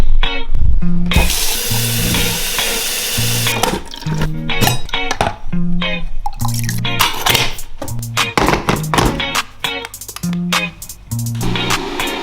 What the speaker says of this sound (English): add 180 grams of water